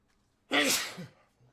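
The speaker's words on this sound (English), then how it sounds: "I'm about to sneeze" A single loud, close sneeze bursting out after a moment of quiet, trailing off into a short breath.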